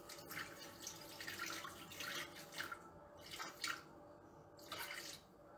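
Water pours into a Thermomix bowl for galette dough, a steady trickling stream with a few louder splashing surges and brief pauses, fairly close and alone.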